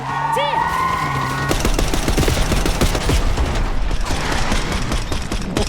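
Rapid automatic gunfire from the video game Black Ops 6 rattles out in loud, dense bursts after a short stretch of quieter game tones, continuing steadily to the end.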